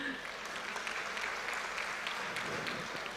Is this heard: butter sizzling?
no